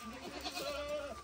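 A male goat bleats once in a drawn-out, wavering cry while being castrated in a Nepali village, the call quiet and somewhat distant.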